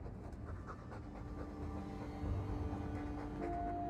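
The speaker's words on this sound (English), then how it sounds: "All that noisy dog breath," A dog panting in quick, steady breaths in the video game Dragon Age 2, fairly close, over a low background hum.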